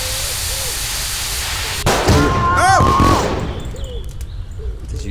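A firework goes off in My Summer Car, a sudden loud burst with crackling and whistling that fades over a few seconds under voices.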